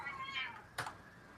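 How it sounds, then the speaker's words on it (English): A cat gives a drawn-out meow that rises and falls, faint and fairly close, followed by a brief soft bump in a quiet room. "you can even have a cat that walks across the screen"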